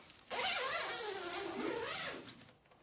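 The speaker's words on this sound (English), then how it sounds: "it zips up from the inside." A sauna tent pod is zipped closed from the inside in one long, continuous rasping pull lasting under two seconds, close and clear, then fading to quiet.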